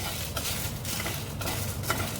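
Dry red chilies are roasted in a pan with no oil, giving a soft, steady sizzle with gentle stirring scrapes at a moderate, fairly quiet level.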